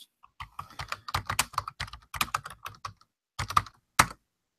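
A search being typed on a computer keyboard, quick clusters of crisp close key clicks with a short pause before a few final firm taps, nobody speaking.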